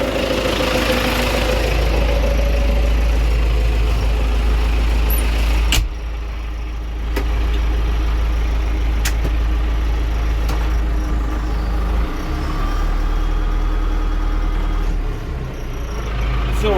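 A tractor engine idles with a steady low rumble, loud and close, with a few sharp clicks and knocks on top.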